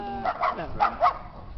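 A dog on a horse farm gives a few quick, moderately close barks in a short burst.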